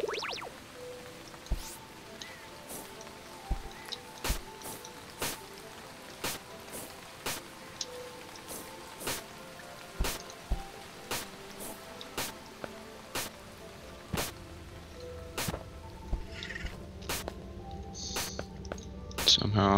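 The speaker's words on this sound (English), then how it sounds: "Rain on the surface." Rain falling in the video game Starbound, a soft background patter punctuated by regular sharp drip-like ticks about once a second, with a player talking over it.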